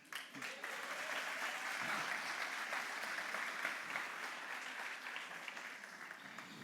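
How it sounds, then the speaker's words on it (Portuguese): A church congregation at a celebration service breaks into sustained applause, many hands clapping in a dense steady wash that holds for several seconds at an even level. "Pode aplaudir, mas deixa eu te explicar"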